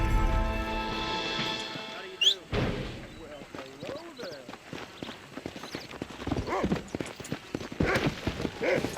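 Horse hooves in the Red Dead Redemption video game make a rhythmic clip-clop that is fairly close and steady, with a sharp bang early on and voices at times.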